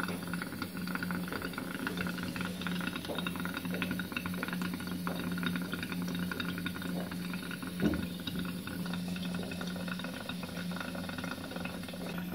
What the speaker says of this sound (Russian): Открываем кран на кухне. Он начинает дуть воздухом.